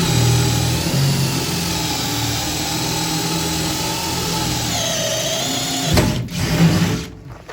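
A power drill whines steadily and close by as it grinds through material. The pitch wavers a little before the drill stops near the end.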